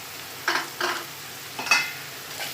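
Pulao masala sautéing with ginger garlic paste in a pan, a soft steady sizzle with three or four short scraping strokes of a spoon stirring, close and fairly quiet, no voices.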